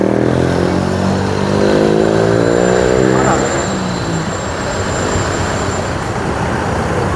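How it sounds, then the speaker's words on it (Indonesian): A tour bus drives in and revs as it turns back toward its depot, its engine loud and close, the pitch rising and then settling into a steady rumble, with people talking over it. "Bus pariwisata"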